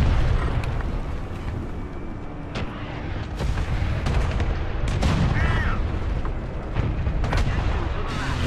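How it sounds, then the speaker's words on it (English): Artillery strike in the tank combat game War Thunder, a dense rumble of repeated booms and explosion blasts over a loud, continuous low roar of battle, with occasional sharp cracks. "Artillery strike coming."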